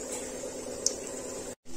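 Kachori frying in hot oil in a kadhai over a low flame, a steady soft bubbling sizzle with a faint hiss that continues evenly, broken by one tiny pop.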